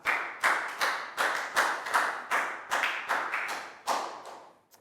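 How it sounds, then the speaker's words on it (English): A small group of schoolchildren in a classroom claps in a steady rhythm, each loud clap ringing out briefly, nearby, with no talking over it. "Big round of applause for Pat."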